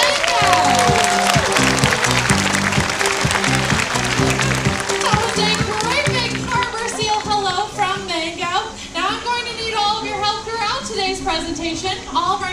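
An audience at a harbor seal show at the Hersheypark Our Ocean Friends show claps steadily and loudly, with crowd noise and a few children's voices mixed in.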